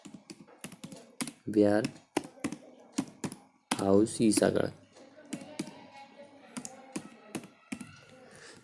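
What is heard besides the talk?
typing on a computer keyboard while filling an online form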